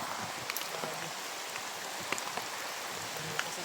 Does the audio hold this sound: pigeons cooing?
no